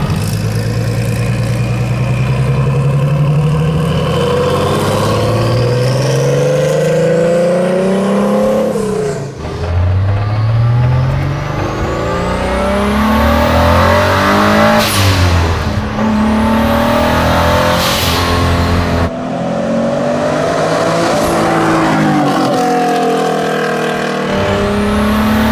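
A custom twin-turbo Ford GT40 restomod drives along, its engine a loud, close, steady roar that climbs in pitch through the gears, with sharp drops at each shift.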